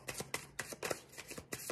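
Playing cards are riffled in several quick bursts of shuffling, each a short crisp flutter spaced about half a second apart, close and fairly quiet with no talking over them.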